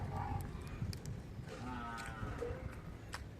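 Domestic buffaloes at a family home let out low, drawn-out moos at moderate distance, several calls overlapping in a short span, amid faint background farm noise.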